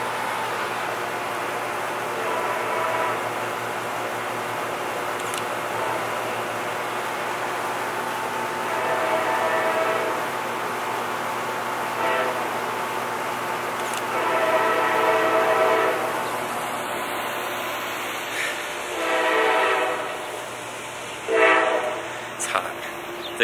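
A train passes close by on a platform or station area, a long steady rumble with rising, horn-like tonal bursts near the end.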